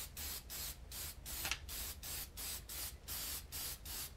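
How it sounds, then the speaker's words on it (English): Conformal coating sprayed from an aerosol can onto a cordless tool's epoxy-potted circuit board, heard as a quiet, close, steady run of short hissing bursts in a regular rhythm, with no talk. "And then we just go ahead and spray the whole works."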